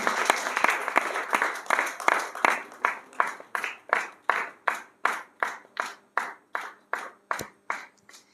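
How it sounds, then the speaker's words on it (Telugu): A church congregation at a fasting prayer service applauds to welcome a pastor, first with a loose burst of clapping, then settling into steady rhythmic unison claps, fairly close and moderately loud. "వారిని చప్పట్లు కొడుతూ ఆహ్వానిద్దాం"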